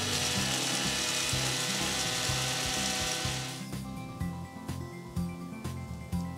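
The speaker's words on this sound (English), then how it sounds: "Now let's blend the dry ingredients into a fine powder." Electric blender grinding dry whole spices, including broken cinnamon stick, into fine powder for Goan pork vindaloo; a loud, steady whirring grind runs for a few seconds, then cuts out into rattling, clattering bits settling in the jar.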